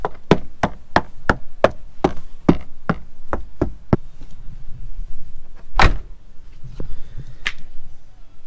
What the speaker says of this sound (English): when the door shuts, it's solid like a rock. It just sounds like a thump